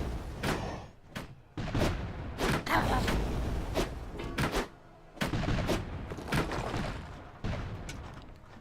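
Cannons firing in the video game Dungeons 3, a rapid series of loud booming blasts and heavy thuds, some close together and others spaced apart, with game battle noise filling the gaps.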